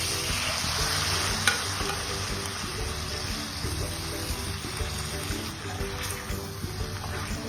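Cooked beef for Kottayam-style beef ularthu sizzles and fries in a pan with curry leaves, stirred with steady scraping and a continuous close, moderately loud crackle, alone without talk.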